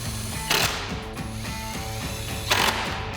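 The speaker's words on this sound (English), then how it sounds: "So we've got our 10mm socket," Ratchet fitted with a 10mm socket clicks rapidly while driving grille mounting screws on a 2019-2024 RAM 2500, close, with brief louder clanks between runs and no talk.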